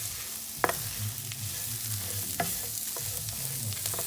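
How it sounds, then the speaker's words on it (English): Crab masala ingredients fry in coconut oil for a Mangalorean crab curry, a continuous close sizzle with a few sharp scrapes of a stirring spoon against the pan, no voices. "For the crab masala, add all the ingredients that is mentioned under the masala and saute for a minute"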